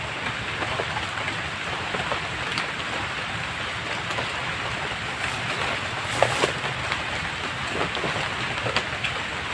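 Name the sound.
rain drizzling in the jungle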